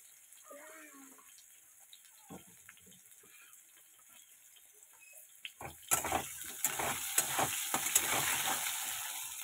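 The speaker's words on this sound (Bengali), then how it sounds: "আলুগুলো একটু লাল লাল করে ভেজে নেব" Potatoes fry in a pan toward a reddish brown; after some quiet clinks and handling, a loud, close sizzle bursts in and keeps crackling steadily with stirring scrapes.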